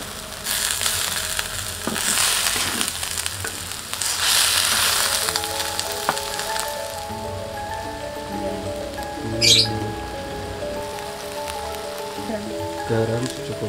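Mushrooms fried with quail eggs and tofu in a pan, crackling and scraping as they are stirred early on, then a softer sizzle with a short metallic clink, under a voice talking.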